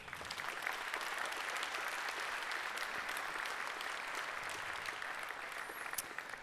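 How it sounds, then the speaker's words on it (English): Audience at the inauguration ceremony of a pulp mill site applauds, a steady, dense round of clapping from a sizable crowd heard at moderate distance, even throughout with no talk. "Please, a warm applause."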